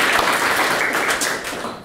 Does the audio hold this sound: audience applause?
yes